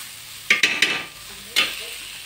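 Cluster beans (guar) sizzle on a griddle pan, a low steady frying hiss broken by a few sharp scraping stirs in quick succession, then one more after a pause, close and with no talking.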